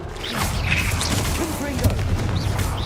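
Blasting spell explosions in Hogwarts Legacy combat, dense crashing booms and debris rumble rolling continuously under a voice shouting spell names.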